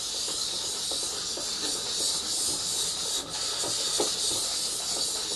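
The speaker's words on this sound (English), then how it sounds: "for grinding in a new blade I reckon the best technique is this" A new plane blade held in a Hone Master honing guide being ground, a continuous close abrasive hiss with faint rhythmic rubbing strokes, no talk.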